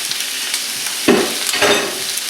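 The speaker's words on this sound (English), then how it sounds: "Make sure to get the skin side flat down onto the pan, which is good. You get a nice even sear" Skin-side-down chicken pieces sear in a hot pan with a steady close sizzle and a couple of brief louder crackles as the pieces are pressed flat, with no speech.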